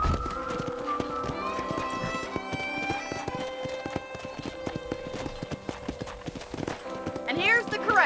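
Rhythmic clip-clop of horse hooves trotting along, close and steady, under Red Dead Redemption's background music with people talking.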